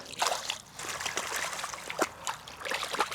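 Cold river water splashes and trickles as someone washes thick mud off themselves in Estonia, giving steady close sloshing with a few louder splashes over a short stretch.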